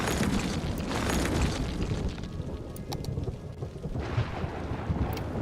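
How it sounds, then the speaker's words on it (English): Rain and rolling thunder from the city-building game Cities: Skylines form a dense, loud, continuous roar with rumbling swells and no voices. "Really persistent rain we got"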